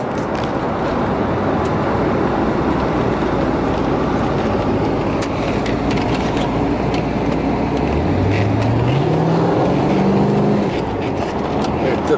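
A C4 Chevrolet Corvette V8 with Z06 wheels drives on a road over steady broadband road and engine noise, with a rising engine tone near the end as the car pulls harder.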